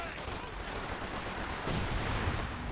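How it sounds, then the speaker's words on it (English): Dense, continuous gunfire crackles through a Company of Heroes 2 battle, rapid bursts layered with a low rumble, loud and steady throughout without a break. "Commandos opening fire."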